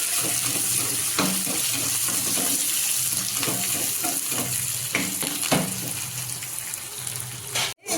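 Tempering seeds frying in foaming peanut oil for a sour tamarind broth, a loud close sizzle and crackle with scattered sharp pops and scraping strokes, cut off abruptly near the end.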